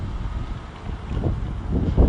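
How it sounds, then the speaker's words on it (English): Wind gusts outdoors in cold Edinburgh weather, a low, rough rumble buffeting the microphone. It swells and strengthens toward the end, with no voices. "Weather today is a little bit cold. And windy."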